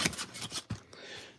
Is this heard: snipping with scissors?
yes